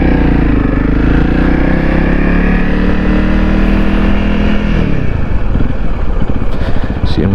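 A Honda CRF 250L motorcycle engine revs steadily up close while riding over a rocky macadam road, a loud continuous drone that shifts and roughens partway through.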